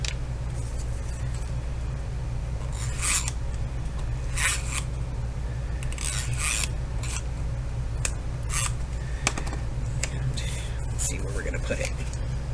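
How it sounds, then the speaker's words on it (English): Clear tape pulled and pressed onto a paper file folder, heard as a series of short rasping strips and crinkles over a constant low hum. "So I'm going to go ahead and put some tape on that."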